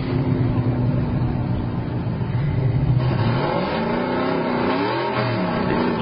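A Mustang and a pickup truck drag race at Hot Rod Drag Week in Tulsa, Oklahoma, the pickup fitted with a ladder bar system; loud, sustained engine roar builds and shifts in pitch as the vehicles rev and accelerate.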